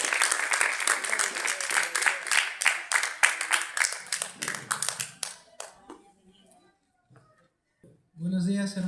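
A church congregation at a Sunday patriotic service claps for a young man named Daniel, a dense run of close, rhythmic handclaps that fades to scattered claps and near silence before a voice begins to speak.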